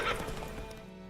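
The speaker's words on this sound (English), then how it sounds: "Doesn't even know how to ride a horse over a bridge." In The Witcher 3, a horse crossing a bridge gives a brief loud neigh at the start, then quick hoofbeats clop on the planks.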